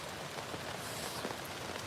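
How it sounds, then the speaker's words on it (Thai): Wind-driven rain lashes down at a night campsite, a dense, steady hiss of drops pattering on a nearby surface, continuous and even with no speech. "ลมมันมาแล้วมันเอาฝนมาด้วยนะครับ"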